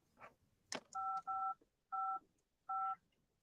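Telephone keypad tones in a studio: four steady two-tone beeps, each about a third of a second, in an uneven rhythm, clear and close, with a brief clatter before them and no talking.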